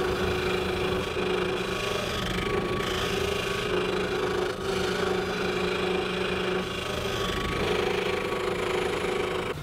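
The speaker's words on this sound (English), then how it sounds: "I'll clean up the cuts using a sanding spindle." Sanding spindle smoothing jigsaw cuts in pine crate pieces, a continuous motor hum with a gritty abrasive rasp, loud and steady throughout with slight variations as the wood is pressed against it.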